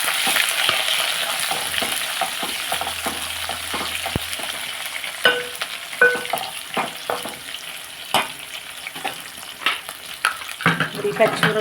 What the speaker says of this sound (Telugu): దీంట్లో ఎప్పుడు మనం ఒక ఉల్లిపాయ కోసుకున్నాం కదండి అవి వేసేస్తున్నాం